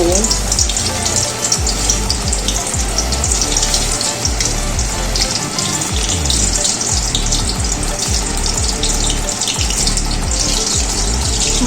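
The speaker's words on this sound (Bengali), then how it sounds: "এবার একটা একটা করে বল দিয়ে দিচ্ছি তেলের মধ্যে।" Butter chicken balls frying in hot white oil, a loud, steady crackling sizzle throughout, with no talking.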